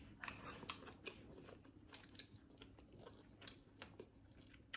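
Crunchy bites and chewing on a cooked salmon and broccoli dinner, very quiet and close, a string of irregular crisp crackles spread over several seconds.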